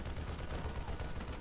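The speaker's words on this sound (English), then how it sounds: "I wonder what the sound of gunfire was." Rapid gunfire from StarCraft units shooting at a neutral supply depot, a faint, steady rattling burst of shots with no pauses, low and muffled throughout.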